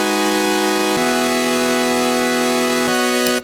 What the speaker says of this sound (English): So that's the chords going into the vocoder.